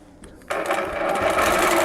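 A sewing machine doing free-motion quilting on a block design starts up after a faint click and settles into a steady, fast, close-up whirring of stitches.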